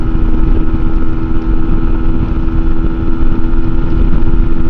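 A 2024 MUTT 125 adventure motorcycle screams near its red line at speed, a loud sustained high-revving single-cylinder drone with constant rumble and wind roar, heard up close.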